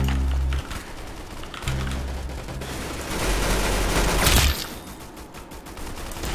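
Gunfire in a first-person shooter video game, rapid bursts of crackling shots rattling in dense volleys alongside deep rumbling booms, loud and continuous across the whole stretch.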